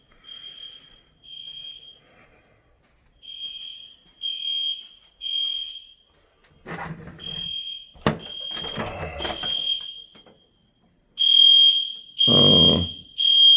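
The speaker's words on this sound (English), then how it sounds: "Can you hear the fire alarm?" A fire alarm beeps in repeated loud, piercing bursts, pausing and resuming, with clattering and handling noises between the tones.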